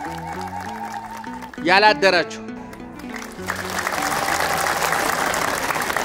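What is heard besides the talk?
audience clapping in church gathering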